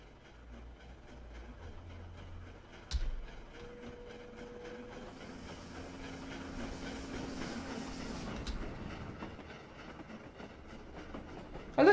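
An A12 locomotive passing through Seaton Junction in Train Simulator on the West of England main line, with steady rolling rumble and rail noise building through the middle and a brief sharp clank near the start, no voices.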